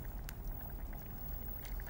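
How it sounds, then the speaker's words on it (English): Hot liquid from a beef goulash ladled and poured in a soft, steady, low trickle, quiet and close, with faint bubbling texture throughout and no voices. "take some of the hot liquid like this"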